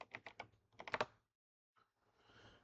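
Fingers type on a computer keyboard, entering a Google search, in two quick close bursts of clacking keystrokes, then a pause before a softer scattered stretch of taps.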